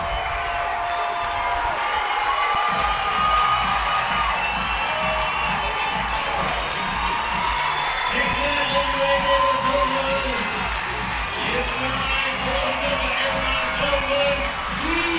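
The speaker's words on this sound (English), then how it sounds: "And the Athens crowd goes wild as Georgia firmly puts themselves up 3 runs." A softball stadium crowd in Athens cheers loudly after a three-run home run for Georgia, with sustained roaring, shouts and clapping, and a commentator talking over it.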